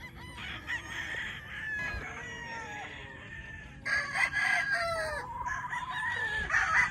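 Gilmore gamefowl, dark-colored, green-legged and pea-combed, crow and cluck on a farm, with several overlapping crows rising and falling at moderate distance and fuller, louder calls in the second half.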